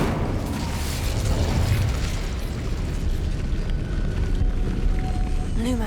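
Incendio fire spell cast in Hogwarts Legacy: a loud, dense roaring burst of flame that sustains with crackling rumble throughout, close and forceful, with a faint tonal whine near the end.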